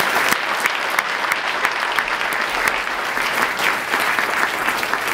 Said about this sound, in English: let's give everyone a hearty round of applause for being the great philanthropist that you are